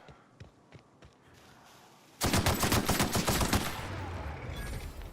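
Weapon fire in the video game The Outer Worlds: a loud, rapid burst of gunshots erupts after a quiet stretch and continues in a dense rattling volley for about two seconds, then fades into sustained game noise.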